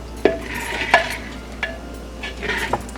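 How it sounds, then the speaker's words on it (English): Egg fried rice in a wok is stirred and sautéed with a gentle background sizzle, broken by several sharp metallic taps and scrapes of the spatula, close up and with no voices. "Stir it well."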